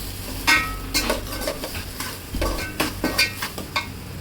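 A spoon stirs a fish curry (meen kulambu) mixture in a pan: about eight scraping strokes in an uneven rhythm over a low, steady sizzle, close and moderately loud, with no talking.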